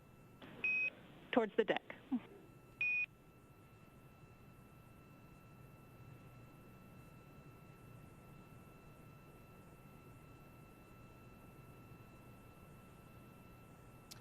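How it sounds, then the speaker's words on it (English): Short electronic Quindar tone beeps sound at the start, a pair of tones around a brief burst of spacewalk radio chatter from a NASA SpaceX Crew-1 mission, followed by a long quiet hiss. "those beeps are Quindar tones"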